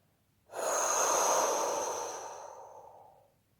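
One long, slow breath out to release tension during a relaxation exercise. It starts abruptly, then fades gradually over about three seconds, close and breathy, with no voice.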